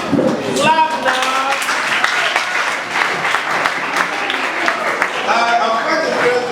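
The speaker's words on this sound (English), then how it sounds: "Clap now!" An audience at a school reunion health talk claps steadily, a dense, sustained round of applause from a crowd, with a voice talking over the clapping.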